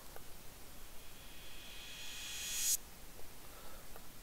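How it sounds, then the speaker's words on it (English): A reversed cymbal in an FL Studio trip-hop track swells up from faint hiss into a bright, rising wash, then cuts off abruptly, followed by quiet background noise. "And I also got like these reversed cymbals just to guide the track along."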